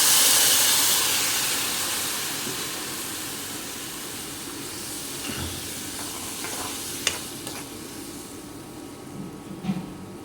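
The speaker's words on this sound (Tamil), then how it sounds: "இப்போ தண்ணி போட்டு அதை நல்லா வேக வச்சிடலாம்." Vegetables simmer in water in a pan for a Tamil side dish, with a steady close hiss of bubbling and scattered scraping stirs and light clinks toward the end, no voices.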